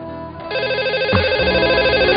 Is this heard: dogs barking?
no